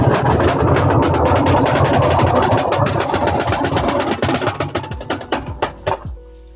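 A washing machine in spin mode drying freshly harvested and washed greens, with a loud, steady mechanical whir and rumble that winds down toward the end into sputtering pulses and then stops.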